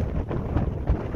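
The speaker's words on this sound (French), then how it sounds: "Je sais pas si vous m'entendez, il y a beaucoup de vent." Strong outdoor wind buffeting the microphone, a continuous low roar with gusty surges and a heavier thump near the end, alone with no voices.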